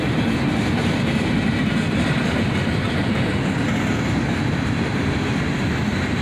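A CSX southbound freight led by a pair of old SD42 locomotives rumbles past, a loud, steady, broadband roar with deep low-end drone and continuous rolling wheel noise.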